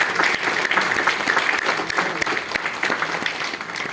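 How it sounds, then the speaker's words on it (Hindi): A training meeting audience at a product launch event claps loudly and steadily for about four seconds, a dense, continuous wash of many hands with no speech over it. "आपका ब्रेन को ये से ताली देना है, जोर से दे दीजिए"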